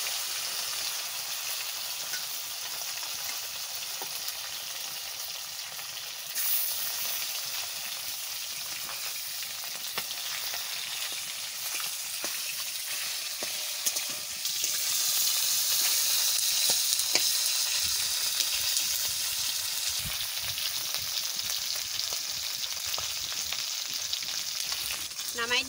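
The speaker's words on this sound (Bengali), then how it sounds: "নামাই নিচ্ছি, মাছ ভাজা হয়ে গেছে।" Soft fish frying in well-heated mustard oil in a pan, a constant crackling sizzle with sharper spits and a louder burst midway, no talking.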